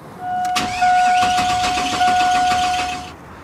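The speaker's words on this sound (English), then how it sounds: "Now with that out, we could just turn on the car." A 2000 GMC Sierra 1500 engine cranks steadily for about three seconds with its fuel pump relay removed, the starter whirring loudly and rhythmically with a steady tonal whine but never catching, then cutting off abruptly.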